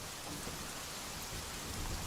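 Heavy, steady rain pours down with rumbling thunder during a storm in Bombay, dense and continuous throughout with no talking.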